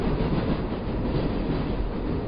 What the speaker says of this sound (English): The train jolted forward, a spiky, high staccato underneath my hiking boots.